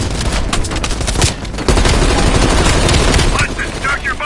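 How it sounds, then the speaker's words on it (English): Sustained heavy machine gun fire from a ridge in the Call of Duty Cold War video game, loud and continuous bursts filling the scene with rapid rattling shots and a brief dip before resuming. "Heavy MG on the ridge!"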